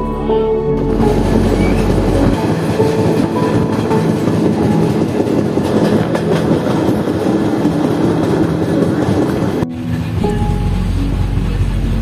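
The Wainganga superfast express travels from Bengaluru to Hyderabad with a loud, continuous rumble, rattle and rhythmic wheel clatter heard from inside the carriage, briefly shifting in tone near the end.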